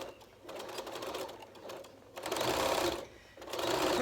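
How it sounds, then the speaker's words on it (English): A sewing machine stitches elastic onto fabric in three bursts of rapid mechanical whirring separated by short pauses, close and fairly quiet, with no talk. "and then you can start sewing"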